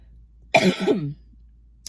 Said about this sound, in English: It's a dry cough, I promise.